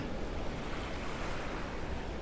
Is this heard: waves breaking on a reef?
yes